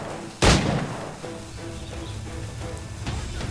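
Gunshot in Assassin's Creed IV: Black Flag, one sharp loud report followed by quieter game ambience and a fainter second shot near the end.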